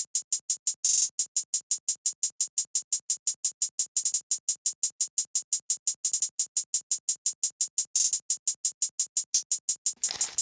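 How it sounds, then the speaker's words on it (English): A simple hi-hat pattern from an FL Studio beat ticks in a steady, fast, crisp rhythm, with brief quicker rolls at a few points. It plays alone, with no voices or other instruments. "And the hi-hat pattern is sounding like this."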